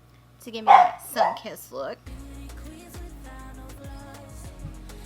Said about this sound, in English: they just love to bark every little noise they hear